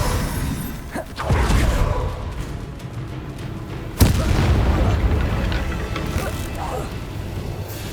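Bombarda and Confringo spell blasts in Hogwarts Legacy go off as two sharp booming impacts about three seconds apart, each followed by rumbling debris over a dense bed of game combat noise.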